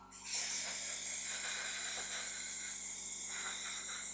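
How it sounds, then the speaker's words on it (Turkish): RifleCX gun care spray hisses from an aerosol can onto a rifle's lower receiver mechanism in one loud, steady, continuous burst lasting several seconds, close up and with no talking. "K spray, Bakım spreyini sıkıyoruz."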